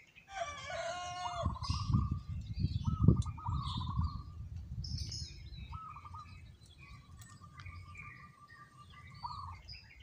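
A rooster crows loudly up close, followed by scattered chirps and calls from other birds in the background.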